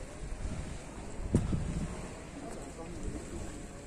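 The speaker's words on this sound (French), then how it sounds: "il y a un petit peu de vent, j'espère que ça va pas trop s'entendre" Steady wind blows on a beach, a broad rushing noise with gusts, occasional bumps and rumble on the microphone, continuing under the scene throughout.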